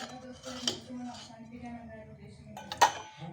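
Metal kitchen pots and dishes clink and knock twice, sharply, as fish curry is moved into another vessel in a Kerala home kitchen, with a voice talking softly in the background.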